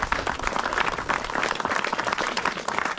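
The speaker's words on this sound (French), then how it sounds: "on peut applaudir la municipalité, on peut applaudir le maire" Crowd applause for the municipality and mayor at a village inauguration in Saint-Julien-du-Verdon, a continuous, moderately close outdoor clapping of many people that holds steady throughout.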